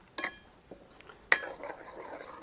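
A spoon stirs garam masala and coriander-cumin powder into a ridge gourd curry in a metal pot, giving two sharp clinks of utensil against the pan with soft scraping and stirring between them.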